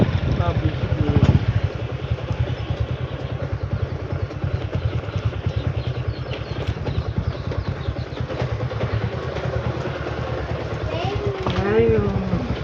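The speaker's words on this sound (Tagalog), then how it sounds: "Motor ride." A motorcycle engine runs steadily throughout a ride, a constant close mechanical drone with rattly clatter, while people talk over it intermittently.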